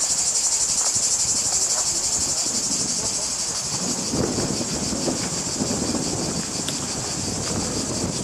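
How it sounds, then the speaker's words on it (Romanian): Dense, steady cicada chorus at the ancient Olympia stadium in Greece, a continuous high shrill drone that fills the whole stretch, with faint background crowd murmur beneath it. "zgomotul e produs de niște insecte numite cicade."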